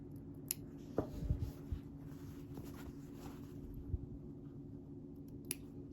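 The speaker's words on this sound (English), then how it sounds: "I'm going to take my small scissors and just snip a tiny little bit." A few quiet, sharp snips from small scissors cutting fabric, scattered irregularly against a soft background hum.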